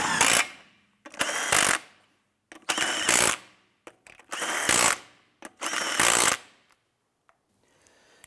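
A power tool snugs down the lug nuts on a wheel of a 2005-2007 Ford Five Hundred, firing five loud, close, rattling bursts of under a second each, separated by brief pauses, then falling quiet, with no talking.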